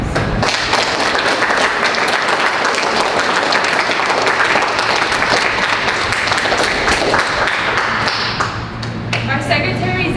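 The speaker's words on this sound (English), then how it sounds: "Please give a round of applause to our new inductees." Loud, close applause from a middle school audience for new National Junior Honor Society inductees at their induction ceremony. It is continuous and dense, with thumps and taps mixed in, and tapers slightly near the end.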